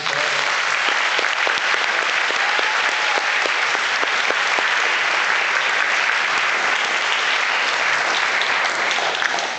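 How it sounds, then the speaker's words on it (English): A large audience at a university band camp gives students one more round of applause, producing a loud, dense, continuous wash of clapping with faint cheers throughout nearly ten seconds. "So can you all clap for them one more time?"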